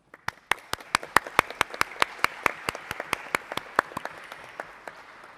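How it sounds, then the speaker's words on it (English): Sparse applause from a small audience for reappointed commission members at a San Antonio City Council meeting, about twenty distinct sharp claps in a steady, fairly quick rhythm, close and moderately loud with no talk. "Please help me in giving all of these four a round of applause."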